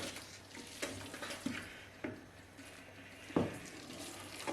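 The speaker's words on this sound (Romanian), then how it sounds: "urmează să băgăm vinetele măcinate" Ground eggplant going into a pan of sautéed onion and red bell pepper for zacuscă, with a steady soft sizzle and several scraping stirs and utensil knocks against the pot.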